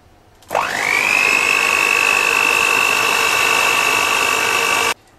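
An electric mixer on low speed beats Black Forest cake batter with cocoa: a close, steady motor whine that rises to pitch right after switching on, holds evenly for about four seconds, then cuts off abruptly.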